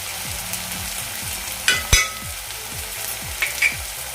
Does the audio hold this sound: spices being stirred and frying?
yes